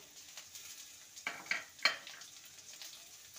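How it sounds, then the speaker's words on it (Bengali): Chopped capsicum lands in a frying pan with potato and carrot, setting off a quiet sizzle with a few sharp clinks and scrapes of the spatula against the pan near the middle. "এবারে আমি দিয়ে দেবো ক্যাপসিকাম কুচি।"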